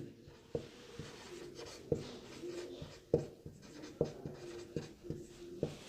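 Pen scratching across paper while a class 10 math solution on pillar height is written out, faint soft strokes with periodic sharper taps as characters are finished, quiet and close.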